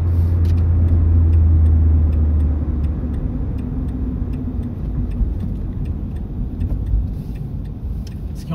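A Renault Clio 2 phase 2 with the 1.6 16V engine hums steadily while driving, loud and close. A low engine drone is strongest early on, then eases under road and cabin noise, with faint ticking.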